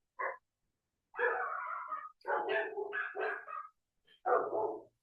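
A pet dog barks indoors in short bursts, one quick yap followed by three longer runs of barking and whining, fairly close and clear with no talk over it.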